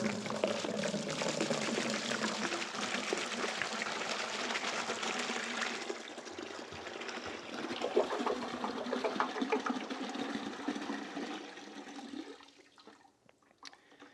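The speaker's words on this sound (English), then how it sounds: "I'm going to pop this open, dump everything out, take a quick look inside" Liquid from the gas tank of a 1972 Honda CB350 is dumped out in a steady, close splashing pour that slowly thins into a trickle and fades out.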